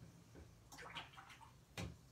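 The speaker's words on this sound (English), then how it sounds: "then I'm rinsing my brush" A paintbrush is swished and tapped in a water jar during watercolor painting, giving soft, quiet splashy bursts close by, with a sharper splash near the end.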